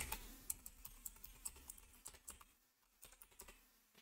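Quick bursts of keystrokes on a computer keyboard as a username is typed into a Windows 10 or Windows 11 account setup, clicking irregularly and close, with no voices.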